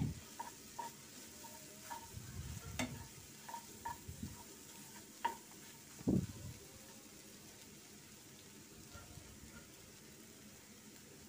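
Small egg pieces are stirred with vegetables in a frying pan for egg noodles, a quiet sizzle under intermittent scrapes and taps of the spatula, with one louder scrape partway through.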